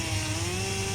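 Chainsaw cutting wood during negative rigging tree work, a steady close-up engine drone holding an even pitch with a slight rise throughout.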